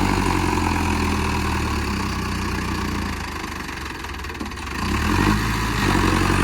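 A tractor engine idles nearby with a steady, low chugging rumble, dipping slightly midway before returning to full strength.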